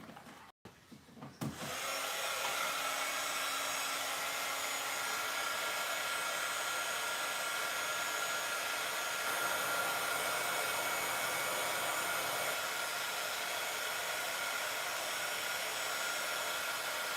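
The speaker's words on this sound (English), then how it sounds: "So let me go to the side and heat set this." Embossing heat tool blowing steadily to heat set ink on a spring paper Easter basket, a loud continuous broadband whoosh starting after a brief click and running alone for the rest of the clip.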